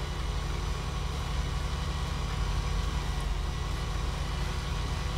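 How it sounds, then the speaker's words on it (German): Steady low engine drone of a tractor running on a farm in Thuringia, continuous and fairly close with a constant rumble and no talk. "Das war der erste Traktor."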